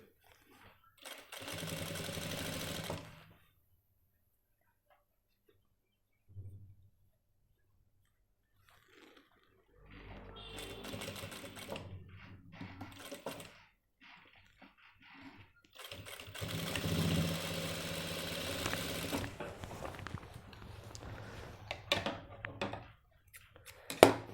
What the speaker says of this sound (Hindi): हर लूप्स के ऊपर हमें डबल सिलाई मारनी है मजबूती के लिए।